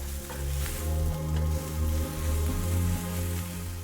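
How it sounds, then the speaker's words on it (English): Garlic and ginger sautéing in a tablespoon of avocado oil in a non-stick pan over medium heat, a steady close sizzle over a continuous low hum. "1 tablespoon avocado oil. Garlic and ginger. Saute for about 30 seconds."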